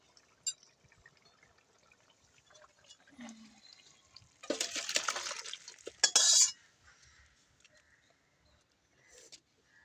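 A metal pot of fish curry made from a silver carp is lifted off a kitchen stove, giving a brief clatter and scrape of cookware with a louder clank near the end, then quiet.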